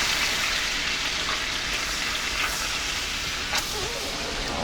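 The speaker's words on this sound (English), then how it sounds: "You hear that sizzle? Yep. That's the butter." Butter sizzles in a pan with a steady, close, crackling hiss, broken by a couple of sharper pops near the end.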